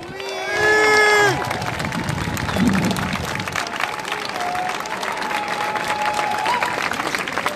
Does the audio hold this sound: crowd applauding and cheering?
yes